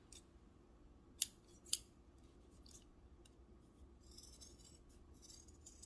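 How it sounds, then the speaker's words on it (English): Scissors trim excess thread from a sewn fabric scrunchie keychain, two crisp, close snips a half-second apart against a quiet background, followed by faint rustling. "Just cutting off the excess thread."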